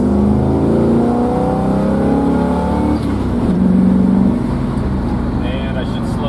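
A 1973 Dodge Dart Swinger with a 360 V8 and four-speed pulls hard under throttle, the engine note climbing steadily through the gears and loud and close from inside the car.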